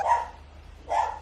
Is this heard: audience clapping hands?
no